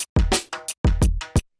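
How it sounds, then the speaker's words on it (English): A saturated drum group from an organic, lo-fi beat, with punchy kick and snare hits in a short loose pattern, about six loud hits with gritty broadband body, close and dry with no voices. "And when I'm done with the saturator, it sounds like this."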